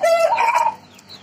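An Aseel fighting rooster at a breeding setup gives a loud, close crow followed by a short cluck, heard alone without talk.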